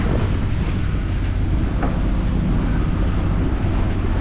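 Wind roars and waves rush steadily around a reefed sailboat heading into a rain squall at sea, a dense, loud, unbroken wash of noise with no voices.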